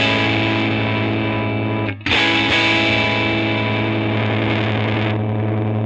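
Electric guitar with a mini humbucker pickup runs through a vintage EarthQuaker Devices effects pedal with a compressor on, giving a thick, distorted sustained chord that rings steadily. A brief dip near the middle is quickly re-struck.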